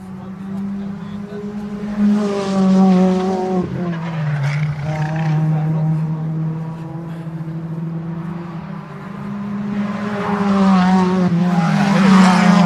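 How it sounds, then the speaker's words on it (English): Ford Fiesta junior championship race cars lap the Cadwell Park circuit, their engines droning steadily and rising in pitch as they accelerate past, loud and fairly close, with voices talking over the noise. "The cars coming round now."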